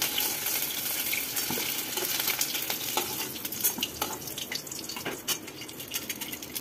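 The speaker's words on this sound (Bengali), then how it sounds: "এবারে আলুর গায়ে সোনালি রং ধরা পর্যন্ত আলুটাকে সুন্দর করে ভেজে নেব।" Potato pieces fry in oil in a pan for a Bengali pumpkin chhokka, giving a steady close sizzle with occasional stirring scrapes and crackles.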